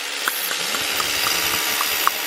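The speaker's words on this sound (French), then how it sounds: "il perce pour mettre les tiges filetées" A power drill boring holes for threaded rods during a pool renovation, a steady mid-distance whir of the motor with faint, regular ticks spaced evenly throughout and no talking.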